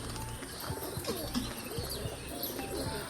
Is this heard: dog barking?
no